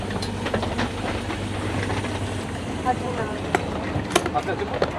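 Low rumbling of a sleeper train standing at a station after an 18-hour journey to Uzbekistan, steady hum with occasional clanks and hisses, a voice talking faintly in the background.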